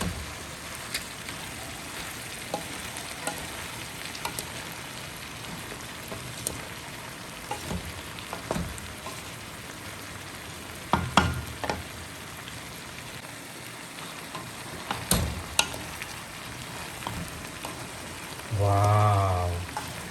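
Vegetables with celery stir-frying in a pan, giving a steady dense sizzle like rain, close and even throughout, with occasional clinks and scrapes of stirring and a brief louder knock near the end.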